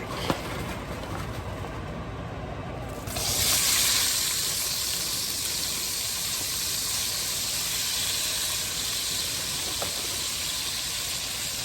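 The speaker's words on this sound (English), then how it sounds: "Onions. I'll let those sweat out a little bit before I put that garlic in there." Onions sweat in a hot pan with a steady, loud sizzling hiss that swells after a few seconds and then holds, close by and without talk.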